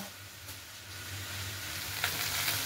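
Ginger paste sizzles and fries steadily in a hot pan for a shukto, with a continuous crackling hiss and a couple of brief scraping stirs, close and alone with no talk.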